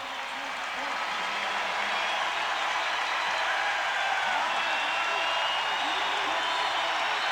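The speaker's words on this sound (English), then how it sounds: "Listen to this crowd, pandemonium in the Target Center." A packed basketball arena crowd at the Target Center in Minnesota roars continuously, a dense, loud wash of cheering and applause with no letup, while a voice talks faintly under the din.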